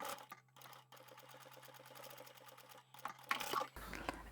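A sewing machine back-stitching and then running to the end of a seam on a fabric keychain card wallet: a quiet, fast, even mechanical stitching patter, ending in a few louder clunks.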